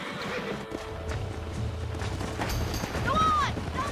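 A fleeing horse in Red Dead Redemption gives a loud whinny near the end, over steady clopping hooves and dense game background noise, with faint muffled voices.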